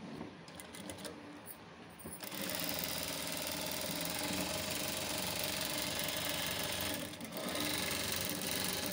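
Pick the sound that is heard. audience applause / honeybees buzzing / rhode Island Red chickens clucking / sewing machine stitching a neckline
sewing machine stitching a neckline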